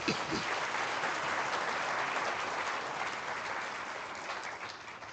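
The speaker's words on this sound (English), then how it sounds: "Let's give our employees and our management a round of applause." A crowd at the launch of upgraded Namibian banknotes and coins applauds employees and management, a continuous wash of clapping heard from some distance, steady and moderately quiet throughout.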